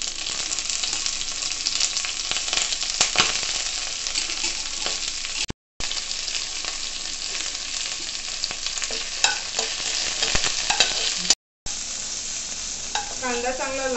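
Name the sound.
onion and curry leaves frying in oil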